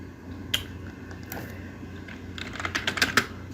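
Keys on a computer keyboard clack in a quiet room, a few isolated taps followed by a quicker burst of several keystrokes near the end, close and fairly soft.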